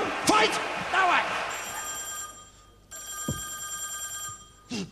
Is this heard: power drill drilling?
no